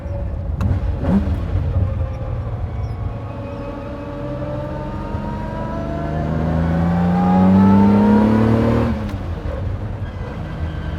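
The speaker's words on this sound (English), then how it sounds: "That's such a Miura characteristic, isn't it? That high-pitched whine." A high-pitched differential gear whine from a Lamborghini Miura rises and falls over its running engine, climbing in pitch as the engine revs, loud and close.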